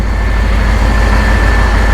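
Honda Transalp XL600V motorcycle engine held steady at raised revs during carburettor synchronisation, a loud, continuous, even drone with no talk over it.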